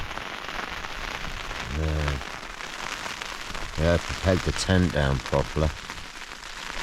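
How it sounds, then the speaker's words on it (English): Steady heavy rain from a midsummer night storm drums on a tent surface throughout, with voices speaking briefly near the start and more animatedly toward the end. "Oh wow, the storm's getting really heavy."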